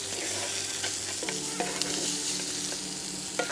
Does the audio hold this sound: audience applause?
no